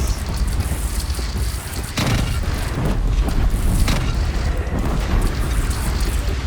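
A Deathbringer machine fires explosive shots in the game Horizon Zero Dawn: repeated heavy booms and blasts over constant loud rumbling battle noise, with several sharper impacts standing out.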